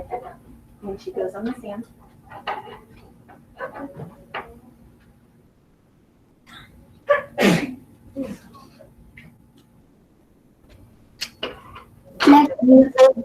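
A single sharp sneeze bursts out during a classroom science lesson on matter, set between stretches of a teacher talking.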